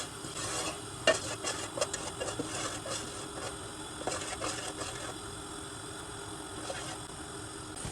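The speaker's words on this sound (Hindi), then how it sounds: "तेल गर्म हो जाए फिर हम अपना चिकन डालेंगे।" Chicken frying in hot oil for charsi chicken karahi, a continuous sizzle under repeated clattering stirs and scrapes in the pan, busiest at the start and settling to a steadier hiss.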